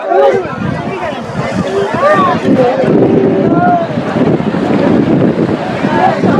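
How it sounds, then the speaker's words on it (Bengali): Rough sea surf at Digha beach roars as a loud, continuous wash mixed with gusty wind buffeting the microphone, while a person talks over it. "সমুদ্র দেখুন কত উত্তাল সমুদ্র"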